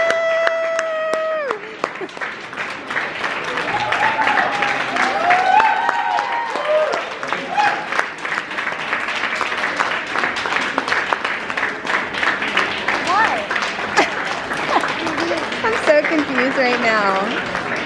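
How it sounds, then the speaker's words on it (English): Clapping fills a busy Apple Store, steady applause from a scattered crowd mixed with chatter and shop noise, people talking over it throughout. "Why is everyone clapping?"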